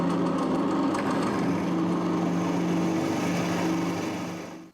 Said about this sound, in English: 10mm drill.